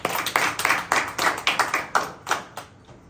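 A church congregation clapping hands in praise during a Holy Trinity Sunday service, about a dozen sharp claps in a loose rhythm that thin out and fade toward the end, with no talking over them.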